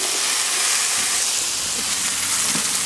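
Diced vegetables and leek hit a hot roasting pan for a Christmas goose in a kettle grill, giving a steady, loud broadband sizzle and hiss with no talk.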